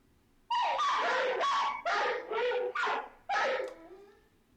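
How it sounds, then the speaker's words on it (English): Dogs bark loudly in a rapid run of about six sharp, whining barks, close and alone against a quiet background. "the dogs start the clip barking pretty loudly at something"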